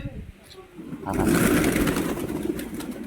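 Pigeons coo in low, murmuring bursts amid a busy rustle of wings and scuffling, with the background growing louder and denser after the first second.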